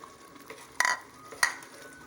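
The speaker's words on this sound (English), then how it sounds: "So you stir after some minutes to make sure it's sticking a little bit." Egusi soup base of crayfish, tomato and pepper being stirred as it fries in a pot: a low sizzle throughout with two short scraping clatters of the spoon against the pot, close by.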